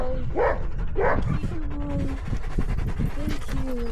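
Sled huskies in Svalbard barking, yipping and whimpering close by, with sharp barks early followed by high whines and whimpers, busy outdoor dog-yard noise and occasional voices.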